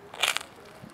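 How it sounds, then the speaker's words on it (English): A bite into the browned, crunchy crust of a pizza slice gives a short, close crackling crunch near the start, then fades to quiet room tone. "nice crunch on this pizza"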